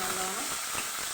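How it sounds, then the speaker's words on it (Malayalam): Onions sizzling steadily in a hot pan for a tomato chutney, with a spatula stirring through them now and then; a close, continuous frying hiss with no talk. "ഉള്ളി ഒന്ന് ചെറുതായി വാടി വരും."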